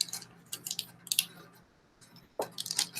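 Thick gel pours from an open container into a squish bag, giving soft wet squelching and plopping bursts in irregular clusters, fairly faint and close, with quiet pauses between.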